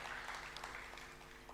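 Soft, steady applause from an audience at a devotional festival gathering, a dense patter of many hands heard at a distance and fairly faint throughout.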